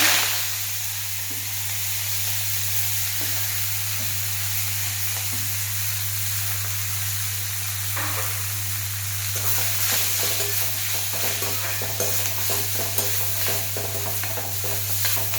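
Cumin, asafoetida and finely chopped fenugreek leaves frying in hot oil after mustard seeds, a continuous close hiss of sizzling with scattered crackles and soft stirring, a steady hum running beneath.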